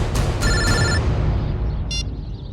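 An electronic telephone rings in short bursts, with a couple of quick trills and then one more after a pause, loud and close over a dense background rumble.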